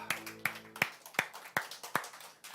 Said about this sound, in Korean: 우리 주님께 박수를 경배하십시다.